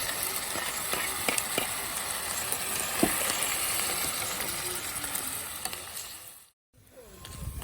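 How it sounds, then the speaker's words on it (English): Crab sizzling and frying steadily in a pan with onions and garlic, a continuous bright hiss broken by occasional crackles and scrapes, cut off briefly near the end before it resumes. "So once you've added the crab into your pan"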